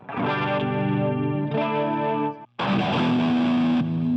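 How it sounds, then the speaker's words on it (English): A heavily distorted, high-gain electric guitar played through a Boss GT-8 multi-effects processor plays sustained chords in three loud bursts, with a brief gap before the last one. "So I'm in a distortion, high gain distorted amp."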